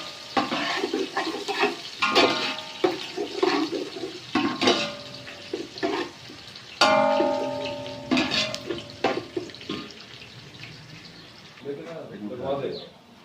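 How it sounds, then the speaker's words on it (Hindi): Chopped onions dropped into a pan of frying garam masala for Pakistani onion rice, a soft sizzle broken by scraping and clattering stirs, with someone talking over it. "अब इसके अंदर मैं ये प्याज डाल रहा हूँ। इसको हम थोड़ा सा ब्राउन होने देते हैं।"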